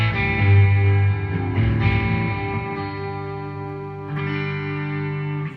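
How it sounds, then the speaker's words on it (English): An electric guitar with gain set low and the volume wide open rings out in overdriven, distorted chords, sustained notes shifting every second or so, full and upfront with no talking. "you turn the guitar wide open and the distortion starts to crawl"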